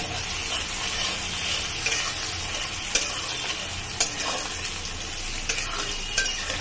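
Sliced onion frying in oil in a pan for chicken and potato curry: a dense, steady sizzle close by with occasional light scraping clicks from stirring, and no talking.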